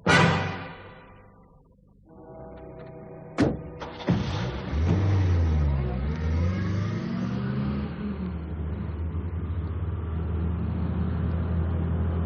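Car driving off as a radio drama sound effect: a door thud and the engine starting, then a loud steady revving drone that carries on as the vehicle pulls away.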